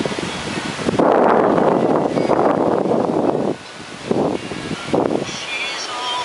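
Strong typhoon gusts buffet and roar across the microphone in surging bursts, with rustling and muffled voices underneath.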